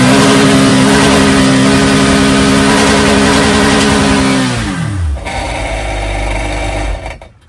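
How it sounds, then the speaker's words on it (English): A Sea-Doo Switch personal watercraft engine runs while being flushed with water. It holds a loud, steady high rev for several seconds, then winds down sharply and stops, leaving a fainter low rumble before it fades out. "Rev the engine."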